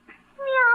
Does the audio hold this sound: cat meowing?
yes